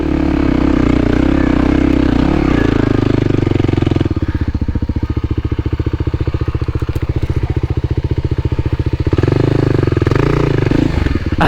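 A Kawasaki Z125 Pro motorcycle labours up a steep mountain hill in first gear, its small engine droning loud and close with a rapid, even firing pulse that steadies mid-climb before rising again.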